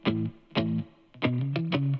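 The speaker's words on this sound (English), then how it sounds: "Let's get a better understanding of what these guitar layers sound like." Melodic guitar layers looped in FL Studio for a melodic rap beat: bright, effect-processed plucked notes ring out one after another in a short repeating pattern, each with a sharp attack and a sustained, harmonically rich tail.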